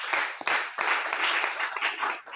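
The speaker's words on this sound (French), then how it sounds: "Il faut applaudir pour lui." Church congregation applauding during a French-language sermon, a dense, sustained burst of clapping close by with a few brief dips, no talk over it.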